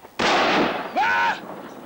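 Gunfire in a film, heard as a loud, dense burst lasting about a second, then a shorter second blast with a whistling ricochet-like tone, close and harsh.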